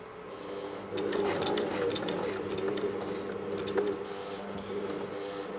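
A Janome 521/525s sewing machine stitches and feeds fabric with a close, steady whirring buzz and rapid needle clatter that picks up after a quiet start and runs on evenly.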